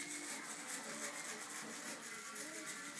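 Steady hand rubbing, a continuous dry scrubbing friction against a surface for several seconds, close and even in loudness with no talking.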